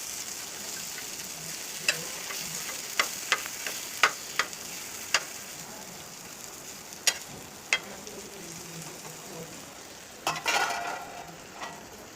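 Okra (bhindi) fries crispy in a pan with a steady close sizzle, broken by scattered sharp clicks and scrapes of a utensil stirring against the metal.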